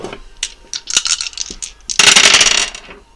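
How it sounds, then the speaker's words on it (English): Dice are shaken and tumble with clicking clatters, then spill and rattle across a surface in a loud, close burst that settles quickly. "should we get some dice and just see what planets and main energies we're working with here?"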